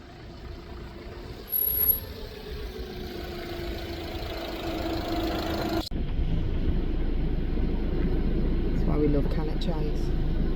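Motorhome engine drones steadily while driving, a low continuous rumble with road noise that shifts and grows slightly rougher partway through, with no talk over it.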